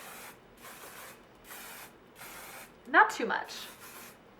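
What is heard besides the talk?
Redken Fashion Work 12 hairspray sprayed over hair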